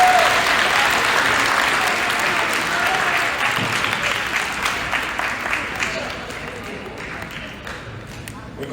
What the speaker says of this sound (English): Let's give them a Hemingway round of applause